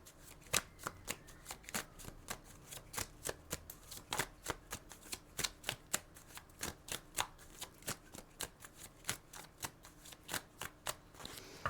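A deck of tarot cards is riffled and shuffled over and over by hand, giving quick papery flutters and snaps in an uneven rhythm, close and quiet with no talking.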